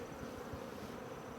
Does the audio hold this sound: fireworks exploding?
no